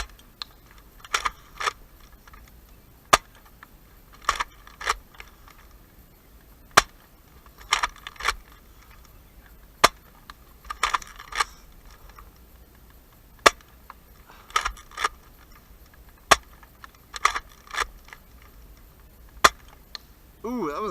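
Full-length Worker dart blaster firing at a red crosshair target: about six sharp, snappy shots spaced roughly three seconds apart, with lighter clicking and handling clatter between them, close and fairly quiet overall.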